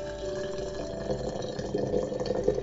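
Boiling water from a kettle pours steadily into a glass container, a continuous splashing, gurgling stream that grows slightly fuller toward the end.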